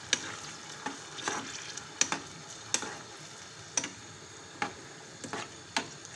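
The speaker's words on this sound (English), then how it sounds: "And you give it a stir." Tomatoes are stirred into a pot of beans on the stove, a spoon scraping and tapping the pot in a regular rhythm over a faint sizzling simmer, close and without talk.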